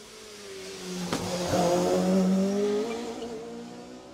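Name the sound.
rally car approaching and passing at speed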